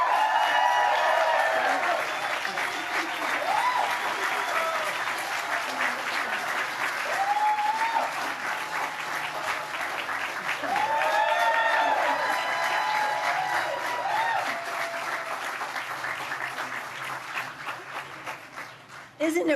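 Sustained audience applause welcoming Nancy Pelosi at a press briefing, a dense, steady wash of clapping from a crowd with some cheers and voices mixed in, fading toward the end.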